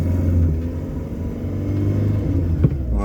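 Peugeot 205 CTI convertible with a swapped 1.6 engine on a test drive, its mid-pitched engine rumbling steadily up close, briefly swelling with throttle near the end.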